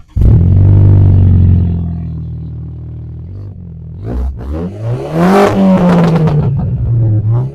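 A 2017 BMW 530i engine revs hard through an Akrapovič exhaust with a deep, throaty roar, drops back to idle, then climbs again in a rising growl, loud and close.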